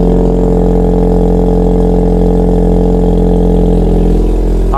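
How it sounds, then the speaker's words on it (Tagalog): A car with a very loud aftermarket exhaust drones close and heavy, holding a steady, powerful engine roar throughout with no talking. "Naririnig nyo naman siguro yung tambucho na napakalakas."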